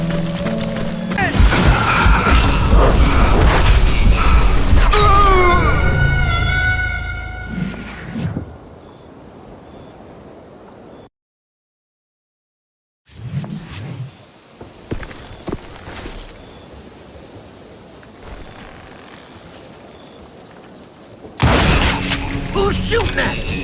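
Gunfire crackles in a loud burst in the Western shooter Call of Juarez: Gunslinger amid game noise and a voice, then drops to near silence before scattered sounds return and another loud burst closes.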